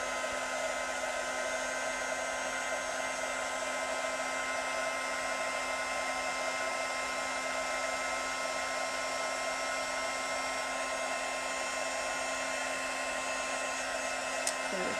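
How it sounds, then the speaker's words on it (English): An embossing heat tool blows hot air over a shaker dome Christmas card in a steady, loud, unbroken whoosh with a constant motor whine, lasting the full length with no speech over it. "And then we heat with our heat tool."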